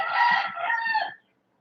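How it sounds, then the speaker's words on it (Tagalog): A rooster crows in a rural province of Iloilo, one clear, fairly close crow lasting about a second, then silence. "Kaya naririnig nyo yung manok."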